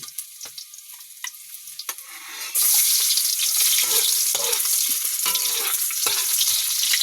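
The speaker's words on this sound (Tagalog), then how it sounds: "Magisa tayo ng bawang. The important of the sauteing." Garlic dropped into hot oil for ginisang tulya, a clam and misua dish: a few faint clinks, then an abrupt loud, steady sizzle that carries on close by.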